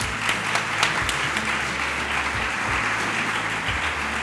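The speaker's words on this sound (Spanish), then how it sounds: "Voy a pedir un aplauso para nuestro siguiente ponente." Audience applause at a Spanish-language SEO conference, welcoming the next speaker onto the stage; steady dense clapping fills the hall for about four seconds with no talking over it.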